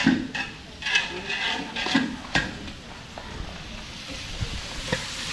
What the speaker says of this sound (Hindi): तो भाई डाल दिया है प्याज और बस